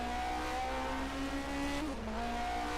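Onboard sound from a 1980 DRM Division 2 race car, the engine droning loud and steady close to the microphone with a quick shift in pitch partway through, and no voices.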